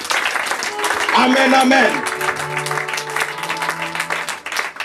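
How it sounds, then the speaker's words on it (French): A church congregation applauds together, a sustained patter of clapping that swells and then thins, mixed with voices calling out and singing over it. "Acclame Jésus pour cela."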